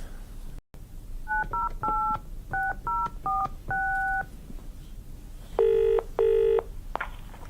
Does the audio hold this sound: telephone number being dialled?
yes